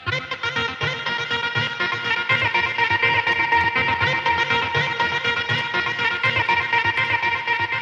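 Dense sustained synth tone in an EDM-style production, high end cut away and a small reverb added, playing continuously at steady loudness with a wide, wash-like tail and no voices.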